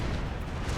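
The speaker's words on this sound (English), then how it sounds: "Unless this one decides to unleash a broadside straight into him." Warship cannons firing a broadside in a Napoleon: Total War naval battle, heard as a dense, continuous rumbling roar of heavy gunfire, loud and steady throughout.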